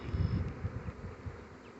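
A large swarm of honeybees buzzes outdoors beneath a shade tree, a dense, steady low drone with a gentle rise and fall that stays loud and close throughout.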